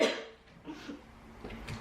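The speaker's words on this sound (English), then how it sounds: "Coughing fit." A quick burst of coughing up close, a harsh first cough followed by a few smaller throaty coughs.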